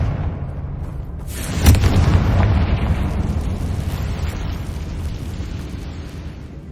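A Confringo fire spell explodes in the Hogwarts Legacy video game, a loud booming blast that swells and then rumbles down into a long fading roar.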